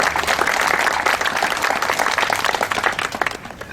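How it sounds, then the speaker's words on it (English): Steady applause from an audience after speakers at a campus divestment meeting, dense clapping sustained and loud throughout with no talk over it. "let's just give them a big round of applause."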